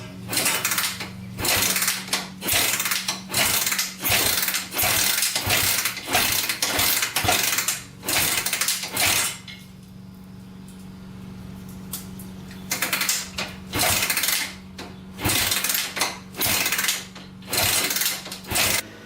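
Repeated kick-start attempts on a Honda 250X engine with its valve covers just refitted: a steady run of sharp mechanical clacks and clunks, with a brief quieter pause midway before the kicking resumes. No engine catches.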